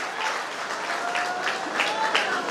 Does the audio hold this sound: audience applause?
yes